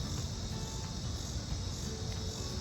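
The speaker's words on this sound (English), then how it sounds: "The cicadas. Way louder than they are in Mass." A dense, continuous buzzing drone of cicadas fills the air, loud and unbroken throughout with no other sounds standing out.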